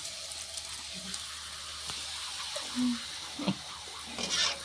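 Puris deep-fry in oil, making a soft, steady sizzling hiss at moderate distance with a few brief bubbling pops and small clinks scattered through.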